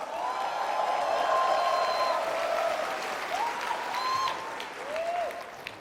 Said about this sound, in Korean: 박수 좀 크게 쳐주세요